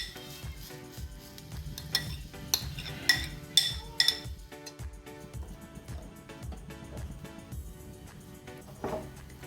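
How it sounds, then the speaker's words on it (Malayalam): Grated carrot being stirred in melted ghee in a pan for carrot halwa: soft scraping and scattered light metallic clinks of a spoon against the pan, fairly quiet, with a steady tonal background throughout. "അതിലേക്ക് നമ്മൾ ചിരകി വെച്ചിട്ടുള്ള ക്യാരറ്റ് ഇട്ട് കൊടുത്തിട്ട് നമുക്കൊന്ന് വേവിച്ചെടുക്കാം"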